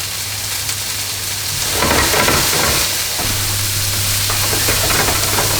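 Diced onion and whole cumin seeds hit a very hot pan with a loud, steady crackling sizzle that swells after a couple of seconds and keeps going, with no talk over it.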